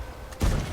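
A single heavy tank cannon shot from an STA-2 tank in a tank battle video game, a sudden deep boom that lingers as a rumbling decay after a quieter lead-in.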